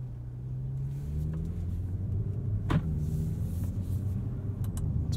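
A 2021 Audi S4 with a 3-liter V6 is driven on back roads near Monterey, a steady low engine rumble with one rising pitch and a brief sharp click partway through.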